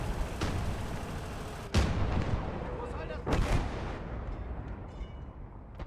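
Artillery guns fire in the Gates of Hell: Ostfront WWII strategy game, including an LEFH howitzer; two heavy booms stand out over a constant rumbling battlefield din, with a fainter shot early on.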